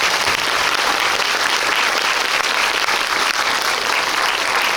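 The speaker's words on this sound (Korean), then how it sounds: "큰 박수를 좀 부탁드립니다." Sustained, dense audience applause fills a packed cinema for actor Park Hae-il at a film talk event, steady and loud throughout with no talk over it.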